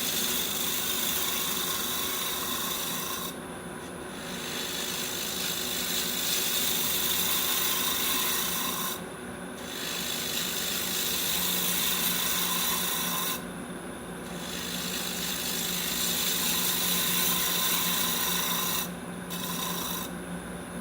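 Wood lathe spinning a cherry bowl at about 1500 RPM while a tool lightly finishes the surface, giving a continuous close rasping rub with a steady hum and brief dips where the cut lifts off.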